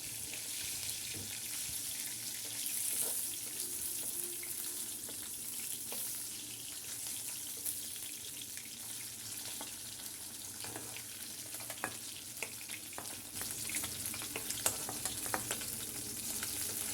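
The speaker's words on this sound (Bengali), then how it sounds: "দেখুন বন্ধুরা আমার মাছ ভাজা হয়ে গিয়েছে" Fish frying in a pan of oil for a home-cooked lunch, a steady soft sizzle with faint clinks and splashy kitchen noise throughout, no voices.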